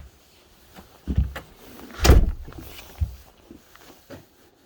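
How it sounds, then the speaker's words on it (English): A door pushed shut at home on a snowy day, with shuffling and a soft thud leading into a louder knock as it closes, then a few quieter bumps afterward. "Now close the door."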